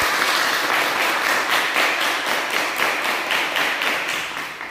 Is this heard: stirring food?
no